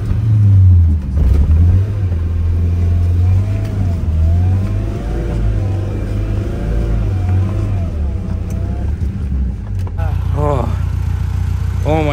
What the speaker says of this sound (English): we got the car out of the mud